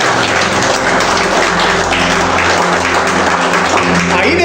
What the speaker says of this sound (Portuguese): então palmas para Ele